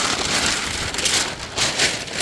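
Rain falls on a Big Agnes Fly Creek ultralight tent, a dense, loud patter of drops hitting the fabric close by, steady with slight swells and no talk.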